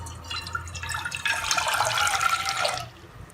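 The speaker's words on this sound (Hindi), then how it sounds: "इसमें हमने तकरीबन 1 कप पानी डाल लेना है।" Water poured into a saucepan for about three seconds, a close, steady liquid splash that swells and then stops, with no one speaking.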